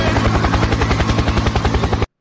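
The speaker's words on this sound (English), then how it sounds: "That was the sound. Helicopter!" Helicopter rotor chopping loudly and close in a meme clip, a fast steady thumping pulse over broadband engine roar that cuts off abruptly after about two seconds.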